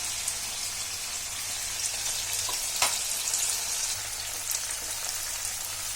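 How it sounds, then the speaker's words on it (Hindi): Sliced okra (bhindi) fries in oil in a pan, giving a continuous close hiss and crackle with occasional sharper pops and a brief stirring scrape, no voices. "थोड़ा ये भिंडियों का कलर जब गोल्डन सा हो जाए तब तक हम इसको फ्राई करते रहेंगे"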